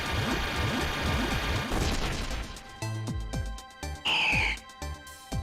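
Swablu evolving into Altaria in Pokemon Alpha Sapphire: a swelling, shimmering chiptune evolution jingle with rising sparkly tones, then sharp rhythmic musical stabs and a bright chime flourish, loud and alone with no talk.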